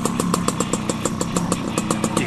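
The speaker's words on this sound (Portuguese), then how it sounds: "Que grande moto que o gajo tem" A motorcycle engine runs close by at a steady, evenly pulsing idle with regular firing beats throughout.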